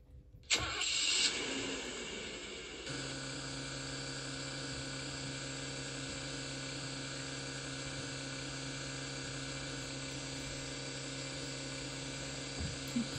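A car engine in the Dr. Driving video game cranks with a short burst and then settles into a steady, even idle hum that carries on alone.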